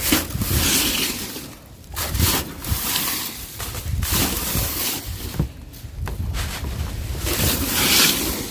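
Waves wash and churn close by, with gusts of wind buffeting the microphone and the drone of a boat underneath.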